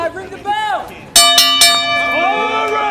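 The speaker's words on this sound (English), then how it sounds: "All right, the bell has tolled." A wrestling ring bell clangs several times in quick succession at an outdoor summer wrestling event, the bright strikes ringing out loud and near after a voice speaks briefly, their tones lingering afterward.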